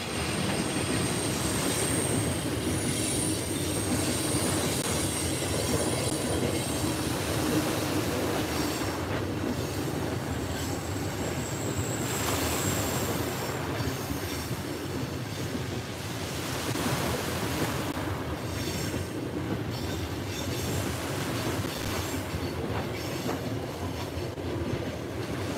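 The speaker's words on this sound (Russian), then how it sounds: "Сейчас поезд проедет." A train passes close by, a continuous loud rumble of rolling wheels and wagons with metallic squeals rising and fading over the length of the pass.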